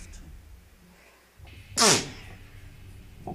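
A Metal Gear Solid video game character gives a single sharp, loud sneeze that bursts out of a quiet, low background and stops abruptly.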